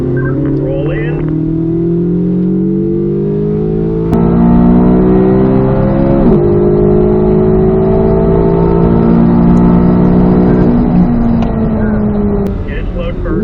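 A Chevrolet Corvette C8 Z06 accelerating hard at a race track, heard from inside the car: loud, rising engine revs with shifts that drop the pitch before it climbs again. An instructor talks over the engine.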